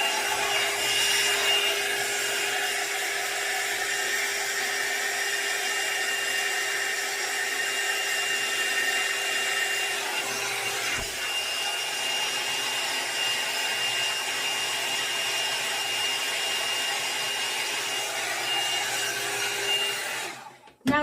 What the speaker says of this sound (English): hot air from a hair dryer